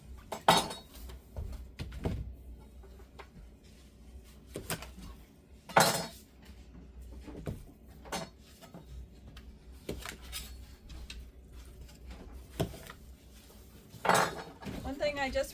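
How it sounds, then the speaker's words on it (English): A knife chops zucchini on a cutting board in a home kitchen, giving scattered sharp knocks and clinks at an uneven pace, fairly close, with low background noise between strikes. "I'm just gonna go ahead and get chopping."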